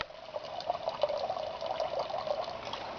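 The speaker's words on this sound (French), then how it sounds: "L'eau elle coule ici." Water running steadily from greenhouse irrigation pumps, a continuous close trickling gush with small bubbling fluctuations throughout.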